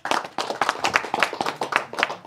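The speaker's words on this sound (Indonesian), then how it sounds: "Tepuk tangan" A group claps in a lively, uneven rhythm during a live gathering in Malino, South Sulawesi, with distinct sharp hand strikes close by for about two seconds.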